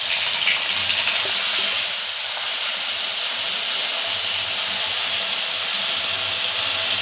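Cinnamon, dry red chili, bay leaf, chopped tomato and ground masala frying in hot oil, giving a loud, continuous sizzling hiss close up with little change throughout.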